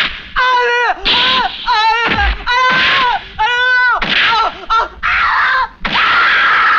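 Loud, repeated anguished screams and wails of a person being beaten in a police station scene from a Hindi film, rising and breaking in close, frantic bursts with brief gaps between them.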